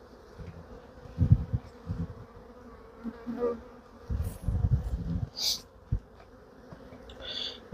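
Honeybees buzz at an open hive, a steady drone with louder bursts as individual bees pass close, bees from an imported queen.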